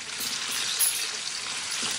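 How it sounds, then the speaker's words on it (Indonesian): Sweet-flavoured meat frying in a pan with a continuous hissing sizzle, steady and close, with no talking. "untuk goreng dagingnya itu nggak usah lama-lama"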